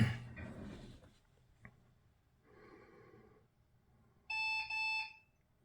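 Two clear electronic beeps from a Lenovo server at boot, signalling an auxiliary fan failure error, come near the end. They follow quieter rustling and low background noise.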